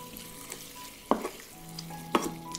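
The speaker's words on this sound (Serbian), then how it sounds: "Sve ću to promešati i pržiti džigericu na nižoj temperaturi da ostane sočna i mekana" Chicken livers fry gently at low heat in a pan with a soft, steady sizzle, broken by two distinct scraping stirs of a utensil, close and fairly quiet.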